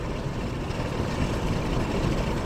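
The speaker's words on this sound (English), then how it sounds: "I'm gonna roll down my windows so you can hear that outdoor noise outside of my" Steady road and traffic roar, dense low rumble with engine hum, heard through open windows of a moving car, continuous and fairly loud with no speech.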